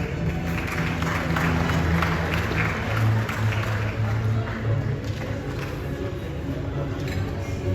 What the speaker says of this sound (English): Give Vice President Lucky Niaus a round of applause